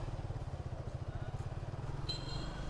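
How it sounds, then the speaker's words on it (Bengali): A nearby motorcycle engine idles with a low, steady, pulsing rumble, faint and continuous, while someone talks quietly. "এই মোটরসাইকেল"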